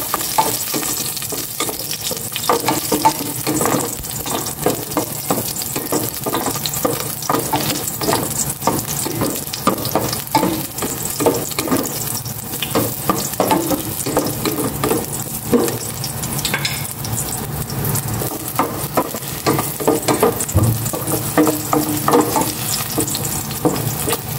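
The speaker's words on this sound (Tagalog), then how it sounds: "Igisa ko na itong bawang." Garlic sautés in hot cooking oil in a pot, giving a steady, close sizzle and crackle throughout. Frequent stirring and scraping sounds from a utensil break in, with no talking.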